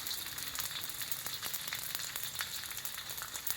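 Edible gum (gond) fries in ghee for winter ladoos, giving off a soft, even sizzling hiss. The quiet crackle holds steady throughout with no voices over it.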